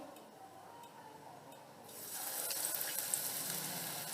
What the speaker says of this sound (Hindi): अब हम फ्राइंग पैन में घी गरम कर लेंगे और फिर हम एक एक करके इसमें पकौड़ों को फ्राई करते जाएंगे।